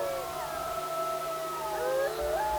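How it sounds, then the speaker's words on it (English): Gray wolves howl at night near a wetland trail, several long overlapping howls rising and falling together at close range over a steady low background hum. "the wolves north of me began howling"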